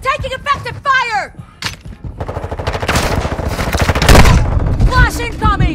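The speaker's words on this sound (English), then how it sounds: "Taking effective fire!" Rapid automatic gunfire in a Call of Duty: Modern Warfare II multiplayer match, loud bursts rattling close by, broken by whistling shouts and voices calling out over the shooting.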